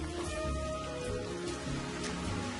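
Steady rain falls at night, a dense, even hiss of drops on surfaces that continues without a break, moderately quiet.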